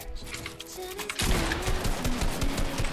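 Gunshots ring out in the video game Fortnite during a 1v1 match ending in a headshot kill, with scattered shots followed by a louder, sustained burst of rapid fire.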